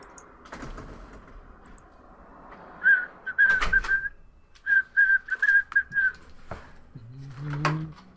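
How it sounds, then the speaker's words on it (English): A person whistles a short series of quick, high chirping notes in two bursts, loud and close, with low background noise and a low rumble near the end. "Stop fucking whistling!"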